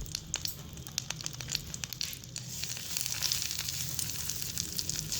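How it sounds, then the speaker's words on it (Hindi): Butter heating in a hot pan gives a steady close sizzle and fine crackle, continuous and unbroken by any voice, ahead of flour going in for a chicken macaroni pasta sauce. "अब मैं इसके अंदर मक्खन ऐड करूँगी पहले, और मक्खन ऐड करने के बाद पहले हम इसे गर्म कर लेंगे।"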